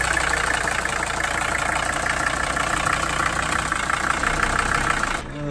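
A Mercedes 300SD diesel engine idles steadily and fairly loudly up close, with a continuous rough clatter and knock that runs evenly throughout before dropping off at the very end.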